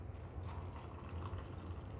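Hot water streams into an instant noodle cup, a soft continuous pouring wash over a low hum, fairly faint and steady for the whole moment.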